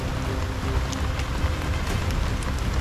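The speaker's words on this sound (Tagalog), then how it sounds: "So lakas ang ulan ngayon mga busing." Heavy rain falling outdoors, a dense, even hiss of drops hitting surfaces, steady and continuous throughout.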